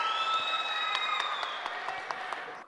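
Audience applause at a Telugu movie audio launch function for the film Potugadu, a dense steady wash of clapping from a large crowd that fades slightly toward the end before cutting off.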